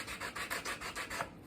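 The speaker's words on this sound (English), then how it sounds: "you can see with just a few seconds of sanding, that's a lot of dust" Hand sanding on a wooden walking stick makes a rhythmic scratchy rubbing, about seven even back-and-forth strokes in quick succession, close and fairly quiet with no talking.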